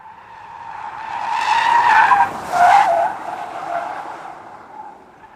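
A Kia EV6 GT, a 580 bhp electric car, slides on a test track with a long, loud tire squeal that swells, breaks off briefly, then surges again before fading, with no engine roar and no voices.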